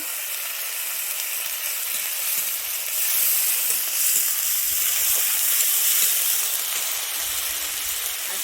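A paste of ground onion and dried red chilli frying in oil for a Bengali bhola fish curry, giving a bright, steady hiss that swells slightly partway through, close up with no speech.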